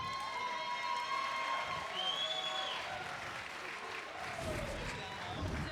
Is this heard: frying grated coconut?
no